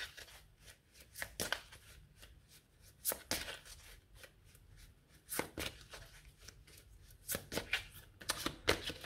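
Oracle cards being shuffled for a card reading: a run of crisp riffling bursts and soft flicks, repeating in irregular clusters, close and fairly quiet, with no talking.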